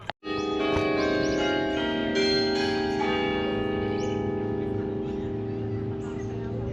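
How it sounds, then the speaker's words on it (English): Tower bell striking the half-hour chime near a small park roundabout with a seal-and-gull waterfall feature, a single loud ringing strike with long harmonic hum that fades slowly over several seconds. "So that was the half-hour chime."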